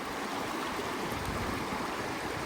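Steady broadband rush of a river flowing beside natural hot spring pools in Idaho, close and continuous with no pauses and no voices.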